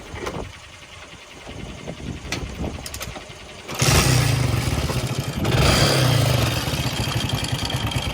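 A motorcycle engine, bored out five years earlier, cranks and catches partway through, then settles into a loud, steady idle with a low rhythmic thump and a mechanical clatter.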